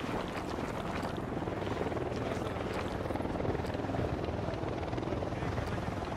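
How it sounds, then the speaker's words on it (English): Enemy Unidad patrol helicopter in the Ghost Recon Wildlands video game, a steady loud rotor thrum and engine roar held throughout at close range, with a faint voice underneath. "Unidad bird on patrol. Watch out."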